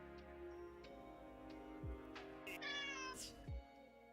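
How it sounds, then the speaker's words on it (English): Cat meows used as a sensor alert sound during a game stream, with two or three distinct meows over a steady background hum of game music, moderately loud and close. "I wish I could think of a better sensor noise than cat noises"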